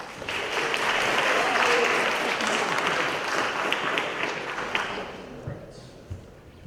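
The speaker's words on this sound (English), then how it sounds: "Let's give him a round of applause" An audience gives a round of applause for a speaker at a university College Republicans versus College Democrats debate, a dense wash of many hands clapping that swells early and then slowly tapers off.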